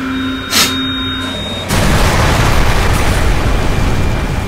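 Explosion from the Resident Evil Umbrella Chronicles video game, a sudden broad roaring blast that swells and then holds as sustained loud rumbling after a brief sharp pop and fading game tones.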